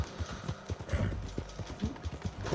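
Horse hooves galloping in Red Dead Redemption, a steady rhythm of loud, close clip-clop thuds running through the whole stretch with no talk over them.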